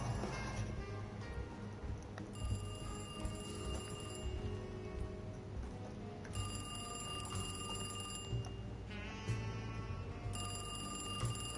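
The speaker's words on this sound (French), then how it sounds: "J'ouvre une armoire, il y a le téléphone qui sonne." Telephone bell ringing in the video game Alone in the Dark, a steady repeated electronic ring in bursts over a low ambient drone, no talking.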